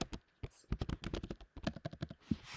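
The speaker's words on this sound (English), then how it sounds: "you'll just type your answer in the box" Keys on a computer keyboard clatter in quick, uneven bursts of close, crisp clicks with brief pauses, someone typing an answer into a box.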